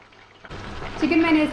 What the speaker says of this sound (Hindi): अब मैं इसको हल्की आंच पर गोल्डन ब्राउन होने तक फ्राई करूँगी।